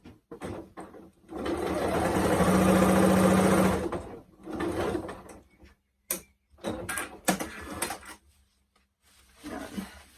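A sewing machine stitches a seam on a gents shirt: one long steady whirring run, then several shorter bursts of stitching separated by pauses.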